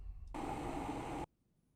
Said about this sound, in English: This was the kettle.